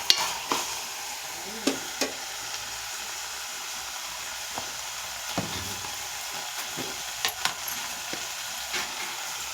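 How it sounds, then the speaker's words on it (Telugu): Brinjal and dried prawn curry being stirred in a pan after turmeric and chili powder are added, with a soft steady sizzle and scattered scraping clicks of the spoon against the pan, close and with no voices. "పసుపు వేసి బాగా కలుపుకుందాం."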